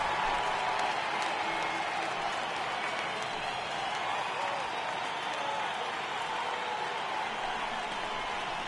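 A stadium crowd rises and cheers in a PS4 baseball game on a full count. The roar is steady and broad and holds at an even level throughout, with no voice on top.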